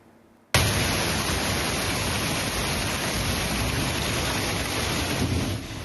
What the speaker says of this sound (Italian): 2 ore di pioggia incessante e vento forte, pesanti le conseguenze del violento temporale che si è abbattuto sul Padovano